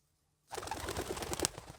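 Pigeons coo close by in a loft, soft throaty calls repeating after a moment of silence, with faint rustling around them.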